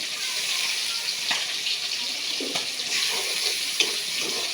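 Steady sizzle of dried loitta fish frying in spices in a home kitchen pan, broad hissing spread evenly through the whole stretch with a few faint clinks and stirring scrapes, and no talking.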